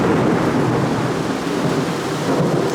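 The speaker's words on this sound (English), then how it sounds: "absolutely pouring, huge thunderstorm" A massive torrential thunderstorm pours down outside, a dense, loud, unbroken roar of heavy rain with rumbling thunder, and no voices.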